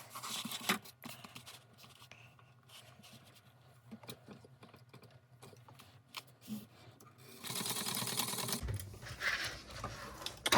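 A sewing machine stitches binding onto carpet in short, quiet bursts of rapid ticking with pauses, and a louder burst of stitching near the end.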